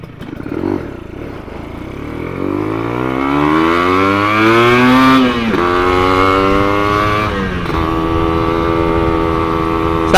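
Motorcycle fitted with a TM32 carburetor revs up on a test ride, engine pitch climbing steadily, dropping briefly with a gear change, then rising again, loud and close with no talk.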